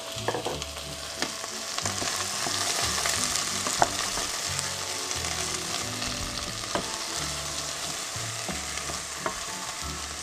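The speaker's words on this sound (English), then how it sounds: "They're going to start and fry." Vegetables sizzle and crackle steadily in hot oil, with occasional pops and stirring clatter, close up and continuous throughout.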